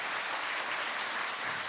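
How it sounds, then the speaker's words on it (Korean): A Sunday church congregation breaks into a big round of applause, a dense, even roar of many hands clapping at once, fairly distant and steady throughout. "Let's give them a big round of applause."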